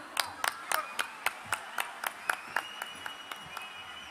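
Scattered hand claps ring out in sharp, evenly spaced bursts for a band after its performance, a small thin smattering of applause rather than a full crowd roar, with faint background noise underneath.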